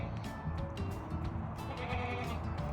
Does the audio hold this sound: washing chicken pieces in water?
no